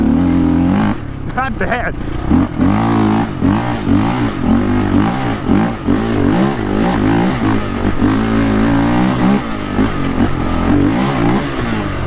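Yamaha Raptor 660 ATV engine pulling in fourth gear, a loud, close, throaty drone that rises and falls in pitch under a rider talking.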